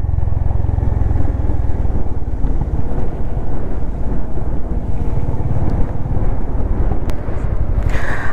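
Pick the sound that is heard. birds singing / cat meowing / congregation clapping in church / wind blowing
wind blowing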